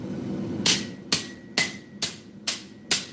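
A hammer's peen strikes metal being rolled into a scroll for garden art, six sharp, evenly spaced ringing blows landing close by with no voices.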